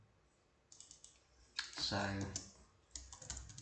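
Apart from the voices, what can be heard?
typing on a computer keyboard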